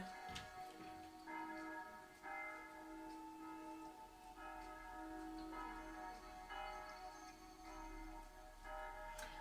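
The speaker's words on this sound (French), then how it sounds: "j'habite pas loin de l'église, alors il y a les cloches qui sonnent" Church bells ring the 6 p.m. hour in a steady, repeating peal, clear and resonant, with no voices present.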